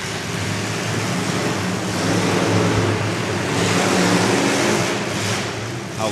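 A race car engine at a dirt track revs in a steady, continuous roar, loud and sustained throughout with a slight swell in the middle, no voices over it.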